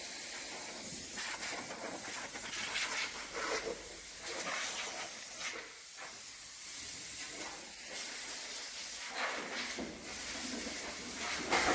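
Compressed air blows off an Escort RS Turbo engine as a continuous broad hiss, rising and falling in bursts with brief dips, fairly close and with no speech.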